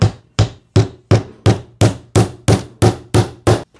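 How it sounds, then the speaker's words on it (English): Hammer drives clout-head nails through drywall into a timber stud, about ten sharp, loud, evenly spaced blows in a steady rhythm with no talking. "you're just trying to hammer that in flush with the top of the drywall"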